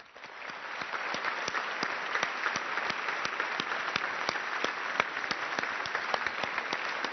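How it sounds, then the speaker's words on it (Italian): A studio audience applauds the arrival of Prime Minister Mario Monti on an Italian comedy show, giving steady, dense clapping that carries on loud and even, with no talking over it. "Grande applauso"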